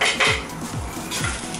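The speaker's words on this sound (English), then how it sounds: "Turn it around, mix it in" Chicken fried rice with fresh scallions being turned over in a pan, with several metallic scrapes and clinks of the utensil against the pan in quick succession, close and fairly loud, with no talking.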